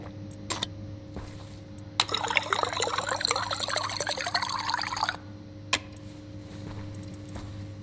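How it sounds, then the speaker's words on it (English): A game character in Stationeers takes a drink of water, a gurgling, bubbling liquid flow lasting about three seconds, framed by short clicks before and after over a constant low mechanical hum. "Let's just get a drink of water while I'm at it."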